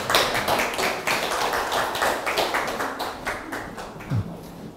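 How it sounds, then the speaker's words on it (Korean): An audience at a Jeju studies lecture event welcomes the speaker with a sustained round of applause, dense, even clapping that thins toward the end as a brief voice briefly sounds. "큰 박수로 맞아주시기 바랍니다."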